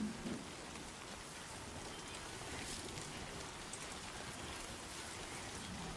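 Steady, dense rainfall from the video game Death Stranding 2, a continuous broadband hiss of drops hitting surfaces that stays even and close throughout, with no other sounds standing out.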